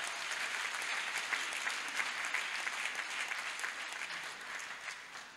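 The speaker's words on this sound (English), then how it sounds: "I think the Lord deserves a clap offering." A church congregation applauds at a thanksgiving service, steady sustained clapping from many hands that fills the whole stretch and tapers slightly at the end.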